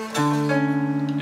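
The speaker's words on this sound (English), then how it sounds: "I played a minor 7 instead of the major 7," A guitar sounds a sustained minor seventh chord for soloing over a pop song, a single strum ringing out clearly with steady harmonic tones and no talk.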